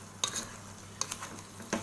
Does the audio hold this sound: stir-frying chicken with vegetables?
yes